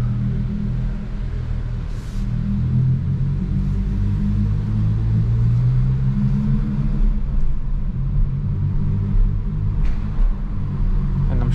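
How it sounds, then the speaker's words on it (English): Hyundai i20 N, 204 hp, revving on a night drive, its engine a steady low rumble with a rising sweep in the middle as the revs climb and blip for rev matching. "And I'm sure you can hear it. We have the rev matching."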